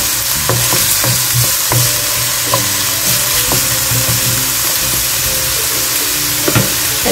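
Garlic and onion sauté in a hot pan, a loud, steady sizzle with scattered pops and the scrape of stirring throughout, and no talking.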